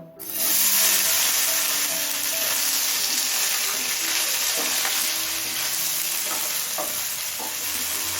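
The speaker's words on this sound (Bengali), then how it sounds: "তেল গরম হয়ে গেছে এবার পনিরটা ভেজে নেব" Paneer frying in hot mustard oil in a pan, a steady close sizzle with a few soft stirring knocks, continuous and loud throughout.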